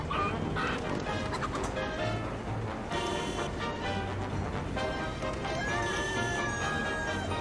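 A chicken clucks and squawks close by during a hands-on session with a live bird near a vehicle, its busy, agitated calls running almost continuously with faint rustling.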